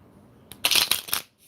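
Kipper cards being shuffled by hand during a reading: a quiet pause, then a close, crisp burst of rapid riffling and flicking that lasts under a second and stops abruptly.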